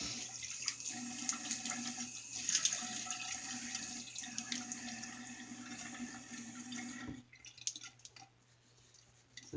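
A bathroom tap runs steadily into a sink for wetting the face before a shave, a close continuous splashing rush that cuts off near the end, leaving a few faint drips.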